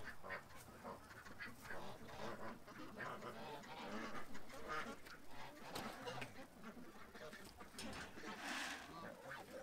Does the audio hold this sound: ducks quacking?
yes